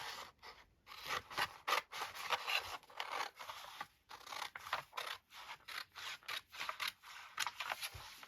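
Scissors snip roughly through craft material in quick, uneven bursts of close, crisp cutting and rustling, with short pauses between the strokes.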